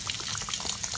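Salmon croquettes sizzle in a frying pan as they are flipped, a faint, continuous crackle and spatter of hot oil with small popping bursts, close and steady with no voices.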